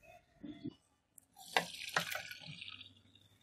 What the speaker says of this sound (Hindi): अब जो इसके अंदर पानी है इसको ड्रेन कर लेंगे यानी पानी निकाल लेंगे